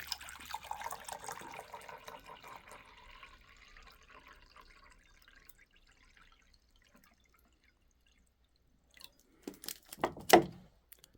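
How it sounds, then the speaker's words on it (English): Water is poured while two cups are measured out for baby formula. A trickling splash starts strongly and fades over several seconds, then after a quiet pause come a few sharp clinks and a brief burst of handling noise. "now we gotta do 2 cups of water"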